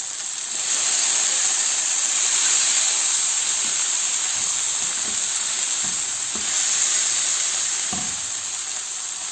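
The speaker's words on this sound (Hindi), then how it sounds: "पाँच से 6 मिनट के लिए एक साइड से पकाया मैंने, और इतना टाइम ही मैं दूसरी साइड पे भी दूंगी ताकि जो फिश है अंदर तक पके" Masala-coated fish pieces fry in oil in a pan with a steady, close sizzle and hiss, broken by a few soft clinks and stirring knocks, and no voices.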